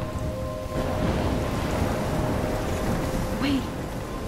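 Stormy rain in the game Life Is Strange, a steady dense hiss of downpour with low rumbling underneath that swells after the first half second, with a brief higher whistle-like gust near the end.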